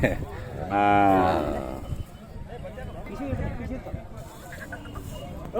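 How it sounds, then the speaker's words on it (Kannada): A startled cow lets out one loud, close, drawn-out moo, then people talk over the outdoor murmur of a livestock setting. "ಅಲ್ಲಿ ಹಸು ಗಾಬರಿ ಆಯ್ತು, ಅದಕ್ಕೆ."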